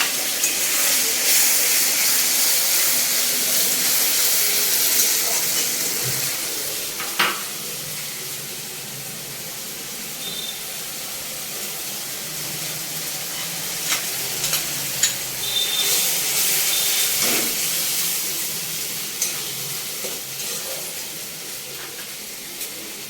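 Mutton with ginger paste and other ground spice pastes fries in a pan, giving a loud, continuous sizzle with wet stirring scrapes and a few sharp clinks of the spoon.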